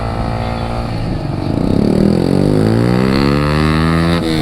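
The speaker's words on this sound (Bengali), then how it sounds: "আমার এটা একশো পঁচিশ সিসির বাইক" A KTM 125cc motorcycle engine idles loudly close by, then revs up with rising and falling pitch sweeps, running on without speech.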